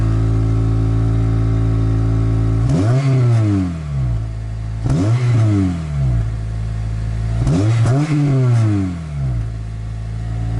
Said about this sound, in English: Actually, Gabriel, can you hop in and just rev it?